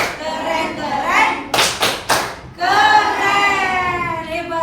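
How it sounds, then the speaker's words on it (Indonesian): A class of children claps in a few short, loud bursts of hand claps between stretches of an adult voice speaking nearby. "Kita beri tepuk tangan dong buat semuanya."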